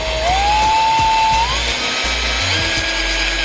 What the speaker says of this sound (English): we're gonna start this way because the rivet